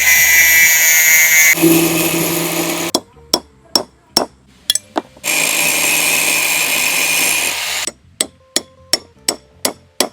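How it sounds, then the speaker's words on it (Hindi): Grinding down a metal pipe to thin it for a homemade reverse trike, a loud power tool whining in two sustained bursts, separated and followed by sharp repeated metallic taps. "पहले इस वाले पाइप को घिसकर थोड़ा पतला करना पड़ेगा"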